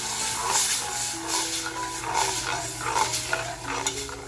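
A masala tempering with turmeric and homemade spice mix sizzles in a pan, a close hiss broken by stirring scrapes and small crackles.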